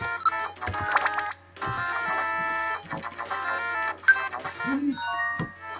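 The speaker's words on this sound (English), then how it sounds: "It's a phone!" A mobile phone ringtone plays as a bright repeating melodic tone pattern over game music, loud and close, with brief breaks.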